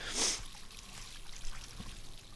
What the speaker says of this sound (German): dann müssen wir mal ein bisschen Wasser ins Gesicht